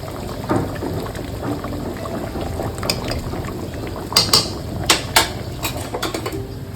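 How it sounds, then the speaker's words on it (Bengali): Dumplings and a splash of rose water are poured into a bubbling gravy, a low steady simmer with several sharp liquid plops and splashes toward the end. "ঢেলে দেবো মুঠাগুলো, আর সামান্য একটু দিয়ে দেব গোলাপ জল"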